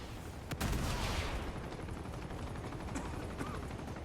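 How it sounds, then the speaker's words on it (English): A helicopter in the video game Uncharted 2, a dense, steady rumbling roar of rotor and engine noise mixed with bursts of gunfire, loud and continuous throughout. "What's that noise? That's the big thing. It's a helicopter."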